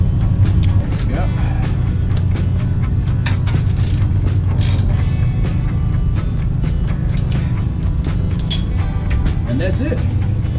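A half-inch drive ratchet cranks in rapid, evenly spaced clicks while tightening bolts during a trailer hitch install on a Mini Cooper Countryman R60, loud and close, with faint background noise.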